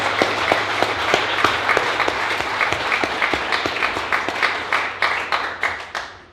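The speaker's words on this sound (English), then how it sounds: "could we also please have a round of applause for our entertainer of the evening" An audience at a council campaign kickoff fundraiser applauds an evening entertainer, sustained clapping from a room full of people that holds steady then thins and fades out.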